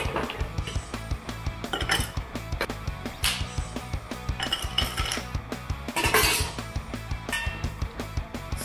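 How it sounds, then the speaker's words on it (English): Ice goes into a cocktail glass for a bartender's Old Fashioned riff with Bénédictine, giving a run of close, bright clinks and rattles with irregular knocks and taps. "So there's the cocktail. We're gonna ice that up."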